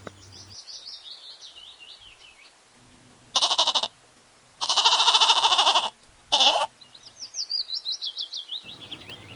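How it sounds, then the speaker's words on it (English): A goat bleats in several loud, wavering calls, separated by short gaps, over a light backdrop of chirping birds. "G for goat."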